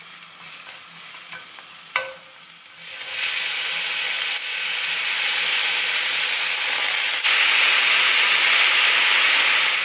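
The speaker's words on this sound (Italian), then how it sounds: "Ora andiamo a attaccare invece questa pentola con l'olio e l'aglio e poi andiamo a metterci dentro i funghi." Garlic and mushrooms fry in hot oil in a pot, a brief clink then a loud, steady sizzle and hiss that swells and holds close up for several seconds.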